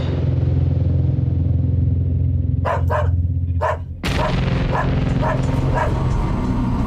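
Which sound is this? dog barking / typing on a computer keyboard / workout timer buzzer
dog barking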